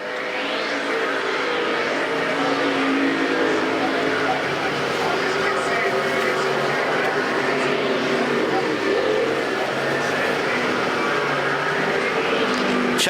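Street stock race cars at Perris Auto Speedway roar past in a continuous loud engine drone with waves of passing cars, as an announcer calls the final lap over the public address.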